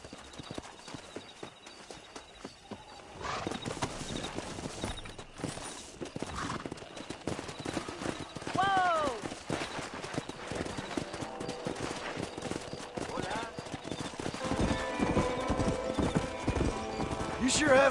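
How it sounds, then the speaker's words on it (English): Horses clip-clop and whinny in the western video game Red Dead Redemption, rhythmic hoofbeats rising as the herd draws near, with a clear neigh midway and character voices speaking over the scene. "let's see if we can't wrangle some horses."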